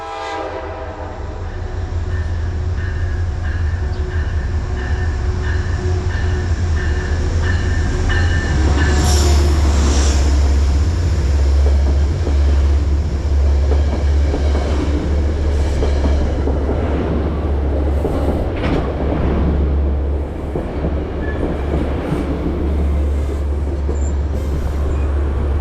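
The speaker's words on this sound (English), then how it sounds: "The big yellow nose of Conrail Heritage Unit 201 stands out as the northbound train 1868 is seen arriving at the Merritt 7 station" Conrail Heritage Unit 201 leads northbound train 1868 into Merritt 7 station, a loud steady diesel rumble building as it arrives, with a horn note and rail clatter and squeal growing over the low engine drone.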